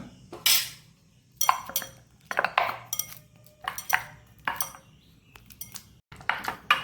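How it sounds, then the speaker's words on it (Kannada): Ripe banana is mashed by hand in a bowl for batter, producing a series of soft, irregular squelches and dull knocks against the vessel, close and fairly quiet, with no talk. "ಉಳಿದದನ್ನು ಹೀಗೆ ಮ್ಯಾಶ್ ಮಾಡಿಕೊಡ್ತಿದ್ದೇನೆ, ಅಥವಾ ನೀವು ಮಿಕ್ಸಿಯಲ್ಲಿ ಹಾಕ್ಕೊಂಡು ಮಾಡ್ಬೋದು"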